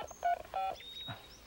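A portable telephone being dialed in a cartoon, two short electronic keypad tones in quick succession followed by a faint thin tone and a soft rustle.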